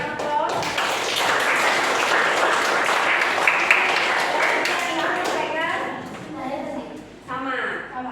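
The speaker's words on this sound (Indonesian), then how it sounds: "Oke, berikan aplaus." A room of teachers at a coaching session claps steadily for several seconds, a dense patter of hands that fades briefly near the end before a final burst, with some talk mixed in.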